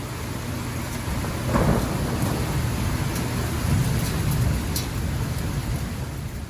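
Steady monsoon-season downpour hisses throughout, with a low rumble of thunder rolling through it; no voices, just the continuous roar of heavy rain.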